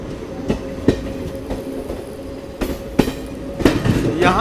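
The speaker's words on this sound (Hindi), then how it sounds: "यहाँ पे अपनी ट्रेन मथुरा जंक्शन को अब स्किप करने वाली है।" A long-distance passenger train runs near Mathura Junction in India, its wheels giving a steady rumble with regular clickety-clack beats over rail joints, loud and close as if heard from aboard.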